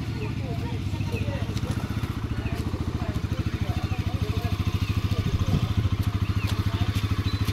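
A motorcycle engine runs nearby with a steady, rapid chugging pulse throughout, heard beneath people talking.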